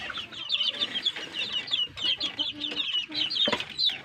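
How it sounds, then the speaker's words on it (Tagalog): Several bantam chickens cluck busily and continuously close by, their quick overlapping clucks forming a lively, steady chatter. "Ayan po ang aking mga bantam."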